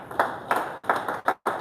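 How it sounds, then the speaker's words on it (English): An audience claps in several short bursts of applause, each swelling and fading with brief gaps between, fairly close and loud with no talking over it. "Please clap for yourselves that you're here to be educated."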